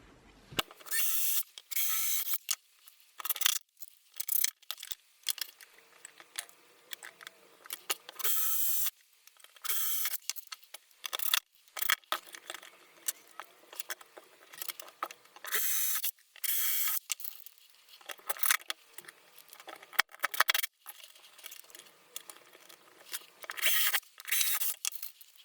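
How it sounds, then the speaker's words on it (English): Drill bursts and screws being driven into wood while assembling a guitar pedal board from leftover timber, sped up so short whirring runs and mechanical clicks follow one another rapidly with brief gaps, fairly close and with no talking. "a quick time lapse of me drilling holes, putting in the screws"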